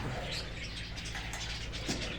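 Soft cooing of caged pigeons mixed into a steady background hum, faint and continuous, with no voices.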